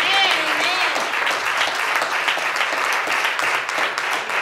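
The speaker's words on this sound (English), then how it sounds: "Y'all give God a hand clap of praise." A church congregation bursts into loud, sustained applause as praise to God, dense clapping filling the room with a brief voice near the start.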